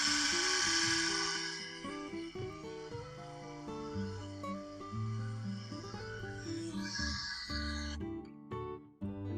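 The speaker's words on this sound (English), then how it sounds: "Start off here with a center drill." A center drill on a machine spins into a dynamo casting to make a small dimple, a quiet motorized whir with shifting tonal hum and some cutting noise, steady at close range before stopping near the end.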